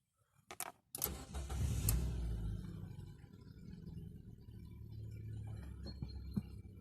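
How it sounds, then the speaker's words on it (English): A 2017 Dacia Duster with a manual transmission starts up: a short cranking burst, then the engine catches and settles into a steady low idle rumble, heard close with no talking. "Starts right up."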